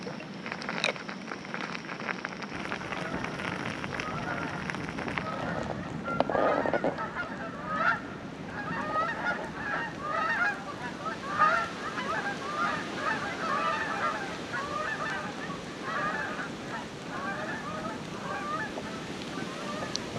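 A flock of geese honking repeatedly at a forest campsite in Green Mountain National Forest, their calls overlapping in an irregular chorus at moderate distance, with a steady outdoor background.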